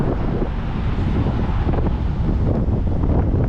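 Strong high wind buffeting an outdoor microphone, a loud, continuous low roar that never lets up, no talk.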